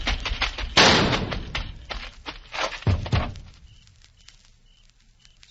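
A gunshot sound effect in an old-time radio drama: a sharp, loud blast near the start, then a couple of heavier thumps and a fading tail, with no voices.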